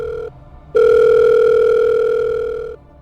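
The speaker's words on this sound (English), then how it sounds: "And then came the mysterious phone call." A steady electronic telephone tone rings out loud and close, a short beep, a pause, then a long sustained tone for about two seconds before cutting off.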